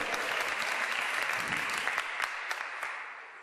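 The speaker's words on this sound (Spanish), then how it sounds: "fuertes aplausos, querido público" An audience at an evening show honouring women applauds loudly and steadily, a full, close wash of clapping that fades slightly toward the end, with no voices over it.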